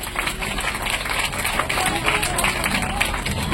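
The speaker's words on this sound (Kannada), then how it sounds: "ಚಪ್ಪಾಳೆ, ಜೋರಾಗಿ ಚಪ್ಪಾಳೆ" An audience at a bouquet felicitation ceremony breaks into dense, continuous applause that stays even throughout, with voices faintly mixed in.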